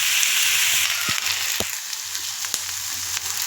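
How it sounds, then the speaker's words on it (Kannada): Onions fry in a pan for Bendekai Palya, a steady bright sizzle with occasional soft clicks and stirring scrapes, close and continuous without talk. "ಈರುಳ್ಳಿ ಚೆನ್ನಾಗಿ ಬಾಡಲಿ."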